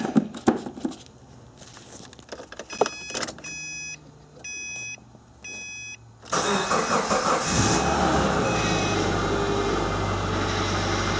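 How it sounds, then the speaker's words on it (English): A Subaru engine cranks with a few short chimes, fires up and settles into a steady idle, with a continuous whine from the power steering pump just after fresh fluid was added. No one speaks. "Now that whine is because I replaced the power steering fluid, and that's the new fluid now recycling through the system"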